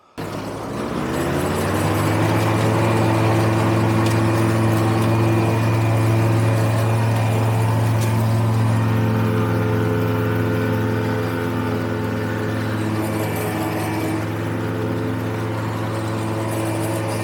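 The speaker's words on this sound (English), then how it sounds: "I would truly take this mower just about anywhere" A lawn mower runs steadily on a steep, soft slope with a sustained mid-pitched engine drone and a slight dip partway through, loud and close with no talking.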